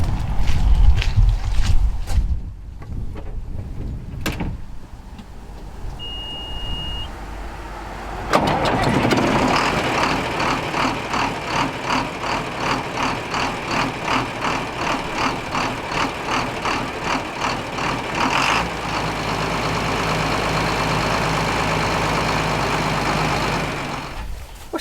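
A vintage Waterloo tractor engine at a farm auction cranks and coughs, then fires and settles into a rhythmic, chugging idle that carries on loud and close, with no speech over it.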